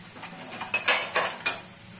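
A metal spoon clinks against dishes in a home kitchen: several sharp, close clatters and chinks spread over two seconds, with quiet pauses in between.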